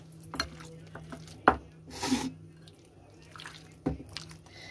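Chicken being mixed by hand with raw mustard oil and spices, giving a few soft wet squelches and slaps scattered over a quiet background.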